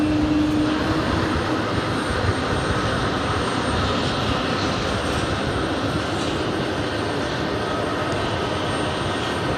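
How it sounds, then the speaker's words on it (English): A JetBlue Airbus A220-300 taxies into gate 3 at JFK Terminal 5, its jet engines giving a steady loud whine and rumble throughout, with a brief tonal hum at the start. "a JetBlue Airbus A220-300 pulling into gate 3 of Terminal 5"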